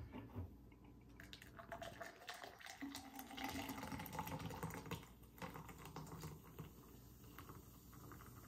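Nitro Pepsi poured hard from a chilled can into a glass, heard as faint irregular splashing and fizzing crackles that swell in the middle and then settle, with no voices.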